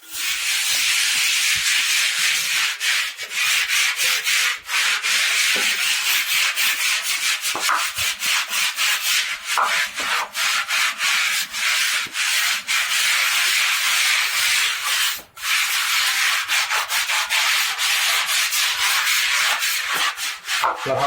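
A brush scrubs algae off the wall of a water sump tank in steady, continuous strokes, a close, even rubbing hiss with a few brief pauses and no talk.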